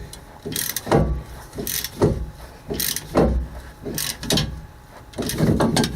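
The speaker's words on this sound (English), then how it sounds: "My ratchet's about had it." Ratchet wrench clicking as it works bolts loose on a Dana 80 rear differential from a Ford F350 7.3 PowerStroke, close and loud, in repeated bursts of rapid ratcheting with brief pauses between strokes.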